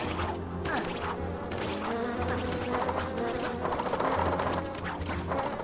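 Angry bees buzz in the Phineas and Ferb: Across the 2nd Dimension video game, a dense droning swarm layered with game effects and occasional smacks, continuous and moderately loud.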